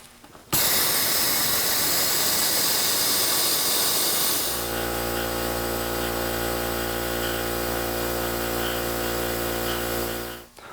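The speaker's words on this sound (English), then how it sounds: "Now that this is done, we are ready to turn on the pump." Vacuum pump drawing down a woodworking veneering bag starts abruptly with a loud hissing rush, then settles after a few seconds into a steady, droning mechanical hum that runs until it cuts off at the end.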